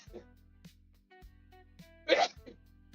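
A single quick sneeze bursts out over a quiet background with faint rhythmic tones and soft movement.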